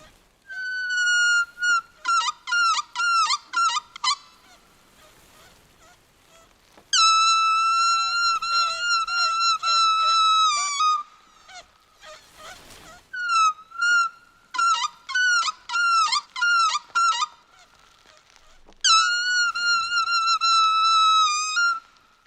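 High squeaky, whistle-like calls made with plastic waste come in rhythmic bursts separated by short pauses, resembling dolphin or whale chatter, clear and close.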